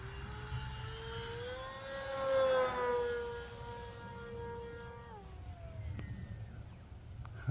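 A HEEWING T2 Cruza foam RC airplane glides overhead with a whirring, helicopter-like drone that rises in pitch and loudness, peaks as it passes, then falls away over steady outdoor background noise.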